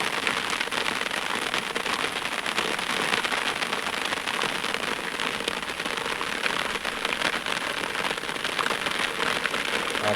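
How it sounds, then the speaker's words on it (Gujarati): Heavy rain pours steadily over a farm, making a dense, loud and continuous hiss and patter close by that never lets up, with no voices. "ધોધમાર વરસાદ પડે છે."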